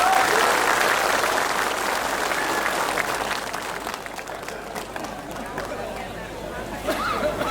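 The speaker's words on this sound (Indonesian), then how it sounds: "Tepuk tangan untuk kita." Loud, sustained applause from an audience standing in the rain at an outdoor political speech, dense clapping from a large crowd that stays steady before thinning slightly toward the end.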